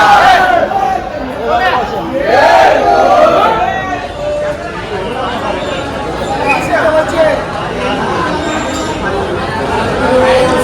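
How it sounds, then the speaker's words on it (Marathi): A dense crowd of Sai devotees gathers at a Khandoba temple during a Thane palkhi procession, with loud overlapping voices, chanting and shouts rising in waves throughout. "साई भक्तांची गर्दी आहे खंडोबा मंदिरला"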